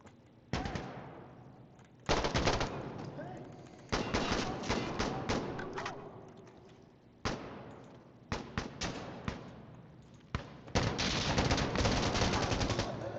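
L85 rifle gunfire in the video game Insurgency Sandstorm, heard as several loud bursts of rapid automatic shots separated by short pauses, each burst with a sharp onset and a ringing decay, and no talking.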